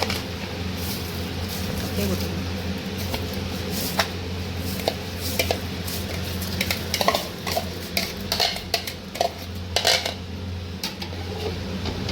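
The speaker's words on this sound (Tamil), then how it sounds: "நல்லா அரிசி போட்டு ஒரு கிண்டி விட்டு அப்படியே மூடி போட்டு வச்சுருங்க." Rice being stirred into vegetable biryani in a pot makes repeated scraping and clinking of a spoon against metal over a low sizzle, with a voice talking now and then.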